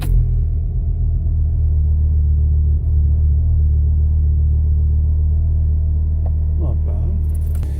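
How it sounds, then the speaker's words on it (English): A Volkswagen car engine runs on a cold start with a loud, steady, low idle rumble that continues throughout, heard close up. "Cold start."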